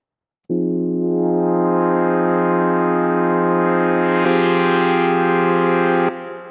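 Synthesizer pad dressed in reverb and chorus holds a single bright sustained chord, entering abruptly and ringing steadily and loud for about six seconds with a slight shift near the end before cutting off.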